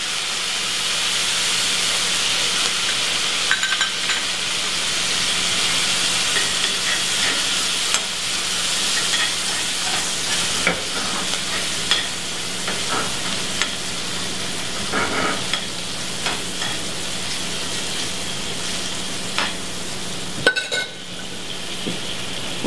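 Butter sizzling in a hot pan with vinaigrette, finishing a cornbread catfish salad: a constant, close frying hiss fills the whole stretch, with faint clinks and stirring now and then and no talking.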